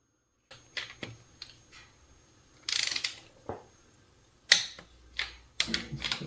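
Battery-powered torque wrench on a 2019 Mustang during valve spring installation, giving a series of sharp mechanical clicks and ratchet-like snaps, spaced irregularly over a quiet background.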